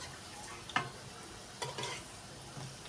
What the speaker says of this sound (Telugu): వేరే వైపుకి తిప్పుతున్నాను.